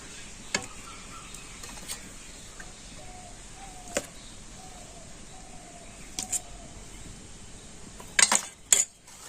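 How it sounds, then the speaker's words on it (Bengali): A few sharp, sparse taps from small bowls of semolina batter knocked against a surface to settle it, separate clicks spread out with a quick cluster near the end over a quiet room. "এবার আমি প্রত্যেকটা বাটিতে ঠুকে এই ব্যাটারটা কিন্তু সেট করে নেবো"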